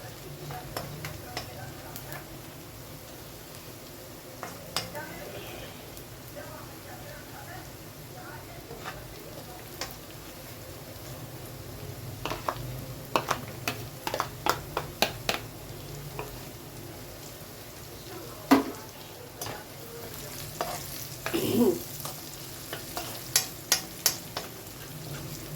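Onion, garlic and pepper sizzle steadily in a hot pan, broken by repeated scraping and clacking stirs that come in quick bursts, with someone talking over the frying.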